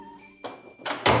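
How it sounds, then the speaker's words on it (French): A door in the Roblox video game, set in a school at night, shuts with a few soft thunks, ending in a firmer final knock, close by and with no voices. "On ferme la porte tout doucement."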